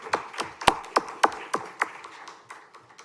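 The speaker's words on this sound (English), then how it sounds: "Let's give that team a round of applause as well." Sparse applause from a school board workshop audience, a handful of distinct, separated claps close by that fade off after a couple of seconds, with no talking over them.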